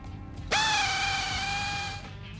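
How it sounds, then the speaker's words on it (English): An impact wrench whirs loud and close for about a second and a half, a sustained high tonal whine as the main harmonic balancer bolt comes off a Nissan S14 engine, then it cuts out. "Using an impact wrench, remove the main harmonic balancer bolt."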